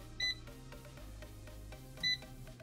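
Two short, bright electronic beeps from a Pro air fryer's control panel, spaced about two seconds apart, sound over a steady low hum while onion rings cook at 375 degrees.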